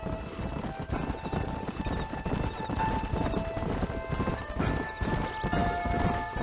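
Several horses clip-clop at a trot on the ground in the Red Dead Redemption video game, with steady overlapping hoofbeats, a whinny and faint voices under the busy game soundscape.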